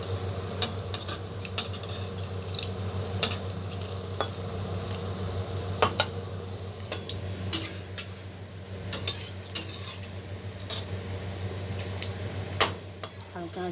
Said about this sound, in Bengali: এইভাবে ভাজবো বাঁধাকপি বলগুলোকে